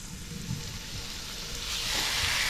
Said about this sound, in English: Then we'll go in with our catfish pieces. Listen for the sizzle.